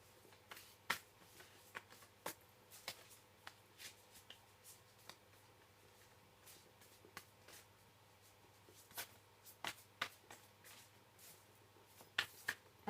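Tarot cards are shuffled quietly by hand, giving a string of crisp, irregular snaps and riffling flicks over a faint low hum, close and soft, with no voices.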